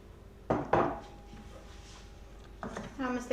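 A spoon clanks and scrapes in a pot of pasta with parmesan cream sauce, two sharp metallic knocks followed later by further stirring clatter, with a voice speaking over parts of it.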